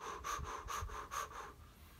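Rapid connected breathing in an energy-breathing practice: quick rhythmic inhale-exhale cycles, about four breath pulses in two seconds, close and steady with no talking.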